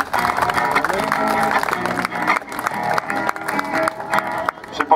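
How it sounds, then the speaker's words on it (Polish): Outdoor crowd at a walking pilgrimage stop in Ślesin applauding, a dense, sustained clapping wash for several seconds with some voices mixed in. "Należą się im wielkie brawa."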